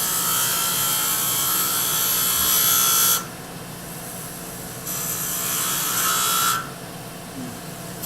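Lathe gouge cutting a threaded pewter finial, loud, scraping hiss that comes in bursts of about three seconds, separated by quieter stretches of the lathe running.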